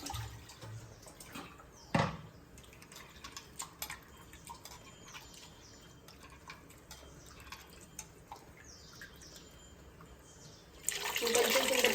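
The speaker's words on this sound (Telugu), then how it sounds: "వాటర్ అయితే పోసుకోవాలి" Water is poured into a tamarind fish curry in the pan. A quiet stretch of small ticks and drips ends in a louder, rushing splash as the water goes in near the end.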